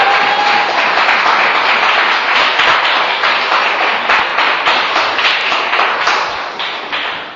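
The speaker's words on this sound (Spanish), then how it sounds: "Denle un aplauso" An audience at a religious talk about the Scriptures gives loud, sustained applause with rapid overlapping claps that tapers off at the end.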